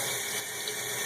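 Steady rush of a running water tap while an art brush is rinsed out under it, continuous and close, with no voices.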